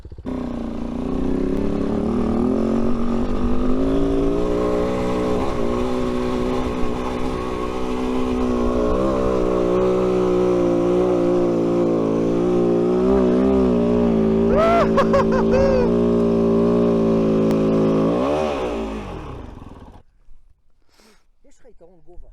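A Kove 450 Rally motorcycle engine held on throttle while riding in the desert, a loud, close, sustained drone whose pitch rises and falls for about twenty seconds before cutting out abruptly.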